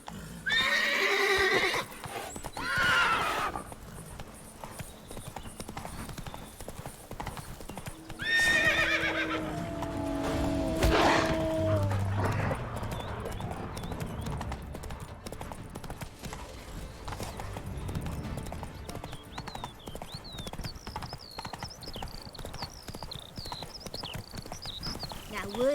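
Roach, a horse in The Witcher 3 video game, gallops with steady clip-clop hoofbeats and lets out loud neighs and whinnies over game music, while someone talks over the action.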